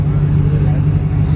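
A car engine drones loudly and steadily up close, a low rumbling hum with people talking faintly in the background.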